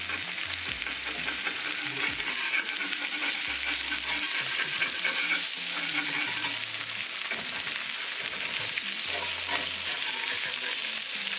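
Salmon fillets frying in a non-stick skillet with mushrooms give a steady, dense sizzle throughout, with occasional faint clinks and stirring noises and no talking.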